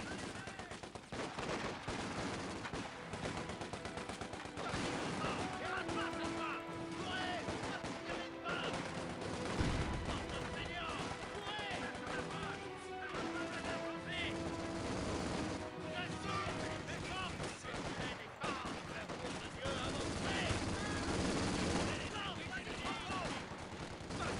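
Heavy gunfire fills a battle in the video game Company of Heroes 2, set at Dunkirk. Rifle and machine-gun bursts rattle continuously over a dense battlefield din, loud and sustained throughout.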